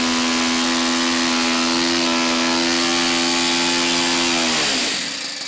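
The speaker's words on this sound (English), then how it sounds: "this is the Piper Cub by Hangar 9 with the engine running in it, the Sato FA62" A Saito FA62 four-stroke engine in a Hangar 9 Piper Cub model plane runs at steady high revs with a loud, buzzing drone, then the throttle drops and the pitch falls away toward idle at the end.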